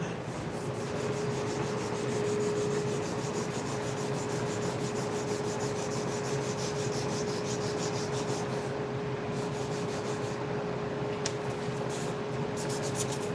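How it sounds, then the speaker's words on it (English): Steady abrasive rubbing of sandpaper on a horn guitar nut for a custom guitar, a continuous close scratchy rasp lasting throughout with an even level and no pauses. "We're sanding it out to get all the scratches out of it."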